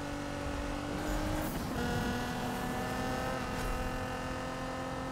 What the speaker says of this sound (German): Warum sind denn gerade so viele Autos unterwegs?